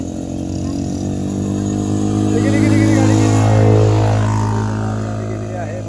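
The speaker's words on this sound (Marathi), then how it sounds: "गाडी कशी गेलेली आहे तिकडे." A motor vehicle, likely a motorcycle, drives past in Dumas, Surat, its engine hum swelling to a peak midway and fading out again over steady background noise, with voices around.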